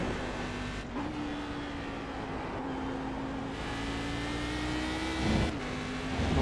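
Cadillac CTS-V race car engine in the iRacing video game, a steady high engine whine that dips briefly as the car spins out, then holds again at a moderate level, alone with no voices.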